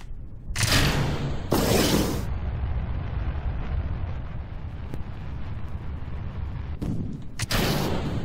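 A rocket engine roars in Kerbal Space Program, a loud rumbling blast with broad roaring bursts early and late over a steady low rush, no talking.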